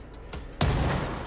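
A grenade goes off in the game Control as a single sharp, loud detonation that follows a few small pops, then a broad rumbling tail that fills the rest of the moment, with no speech over it.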